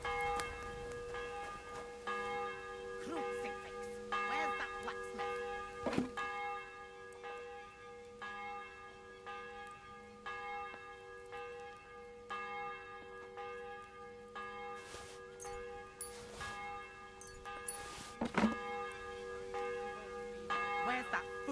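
A church bell peals continuously with rich, ringing overtones, the strikes repeating and overlapping with light background noise throughout.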